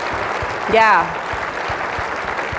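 An audience at an EverQuest and EverQuest II keynote applauds in a steady, even patter of clapping throughout, with a brief voice calling out over it.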